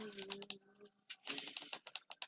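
Rapid computer clicking in quick irregular bursts, close and fairly crisp, with a short pause partway through.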